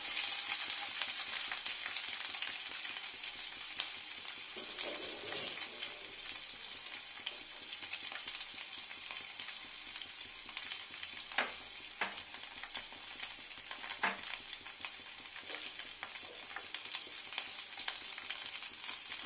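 Onion and ginger fry in mustard oil with a broad, continuous hiss, broken now and then by brief clinks and scrapes of stirring, heard close and without speech.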